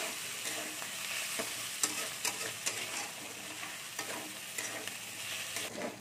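Ginger-garlic paste frying in a pan with green chilies for a potato and eggplant dish, a soft steady sizzle broken by light, irregular stirring scrapes and taps.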